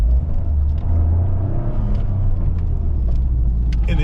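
A 2023 Toyota GR Corolla Core with an aftermarket exhaust rumbles steadily while driving, a deep continuous engine and exhaust drone heard from inside the cabin, with no talking.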